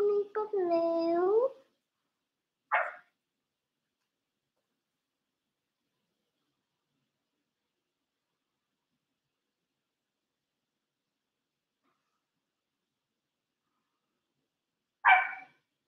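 A dog barks a few times close by, a burst at the start, then two lone barks separated by a long stretch of silence.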